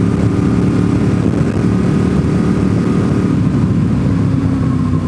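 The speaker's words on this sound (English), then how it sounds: "Oh, some motorbikes found my back road." Steady low engine rumble of motorbikes on a road, a continuous droning roar that holds throughout with slight shifts in pitch.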